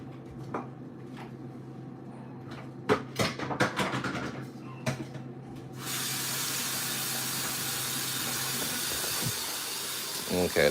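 A baby bottle warms up with faint clicks and clatter, then a steady hiss of steam sets in and runs continuously to the end.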